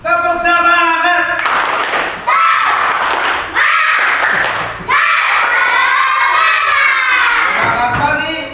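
Schoolchildren in an Indonesian classroom chant loudly together in unison, with rhythmic clapping woven through the chant, the group's voices close and filling the room in repeated bursts.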